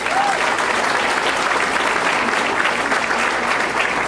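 Dense applause from an audience honouring City Colleges of Chicago students fills the room at a steady, loud level without a break.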